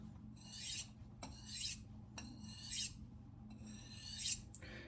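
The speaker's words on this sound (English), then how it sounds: "I do see nice streaks of metal on the surface with each sharpening stroke." Knife strokes rasp across a coarse natural whetstone on harder steel, four distinct scraping passes in a steady rhythm with short pauses between them, close and clear with no talking.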